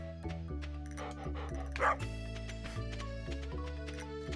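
A dog in the farming video game Stardew Valley yips and barks a few times over steady looping game music, with one brief louder bark.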